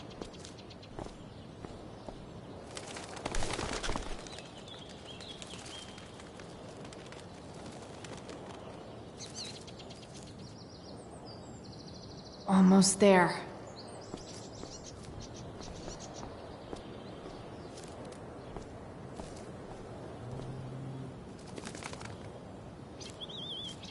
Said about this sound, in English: I need to get that bird away from the quad